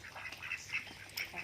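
A Muscovy drake and a few ducks quack faintly at a distance in short, scattered calls over a quiet outdoor background.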